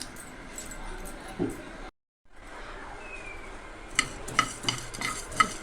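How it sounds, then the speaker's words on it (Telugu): Coriander seeds roast in a dry pan, a quiet, continuous crackle with light stirring and scraping, broken by a short silent gap, then a run of sharp little pops and clinks. "ధనియాలు వేయించుకోండి, దోరగా వేయించుకోవాలి"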